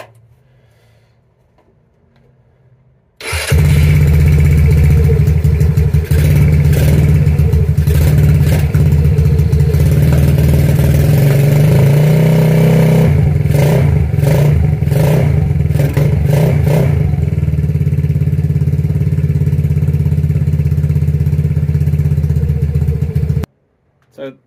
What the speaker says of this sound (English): I suppose you guys want to hear it running